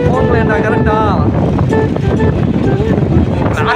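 Strong wind roars and buffets a vehicle carrying friends on a road trip, a loud continuous rush under people talking and calling out.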